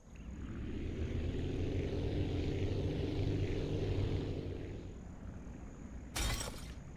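Glass cargo shatters in the flight game Aviassembly, a sharp brief burst of breaking near the end, over a steady droning aircraft engine that fills most of the clip.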